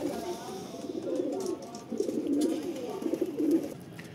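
Pigeons coo on a rooftop in three close, repeated bursts of soft, throaty calls, near and moderately loud with no talking.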